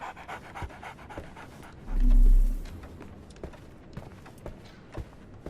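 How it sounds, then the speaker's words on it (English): A dog panting in Sherlock Holmes: The Awakened, quick rhythmic breathy pants close by at a steady pace, with a short low swelling hum partway through and soft thumps around it. "So, Barnes has a dog now."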